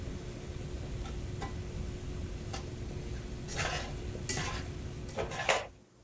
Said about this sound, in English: And then use the wine to help deglaze the pan.